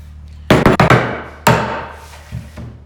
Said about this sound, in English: How about the claw end, a little baby hammer?